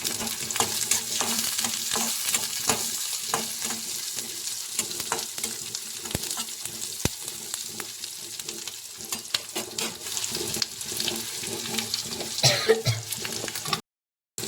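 Ginger pieces and garlic slices frying in a pan for egg curry, a steady close sizzle broken by spatula taps and stirring, with a throat clearing near the end before a sudden cut to silence.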